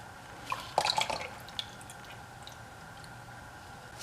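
Engine oil trickling and dripping from the drain of a Yamaha Raptor 700 ATV, a brief cluster of wet drips and splashes near the start, then quiet steady trickle, close and fairly faint.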